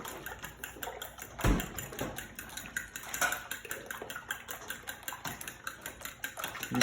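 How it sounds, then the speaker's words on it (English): A fork beats eggs and milk in a bowl for French toast, giving quick, steady scraping taps against the dish, near and moderately loud, with no speech over it. "I use a fork to beat it."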